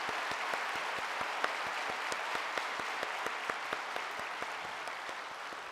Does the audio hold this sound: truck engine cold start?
no